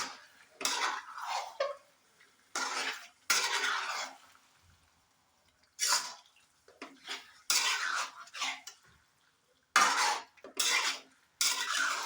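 A metal spoon stirs Kerala-style beef roast with masala in a pan, giving bursts of scraping and clattering against the pan, separated by quiet pauses, close and moderately loud.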